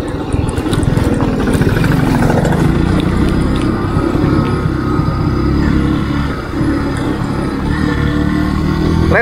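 A Kawasaki W175 motorcycle engine runs steadily at idle, a loud, continuous low rumble close by with no talking.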